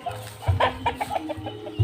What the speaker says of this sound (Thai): นี่ก็มีไก่